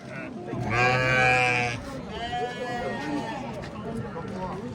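Merino sheep bleat at a busy livestock market in Karakol, with one loud, drawn-out bleat standing out over the steady chatter of traders talking nearby.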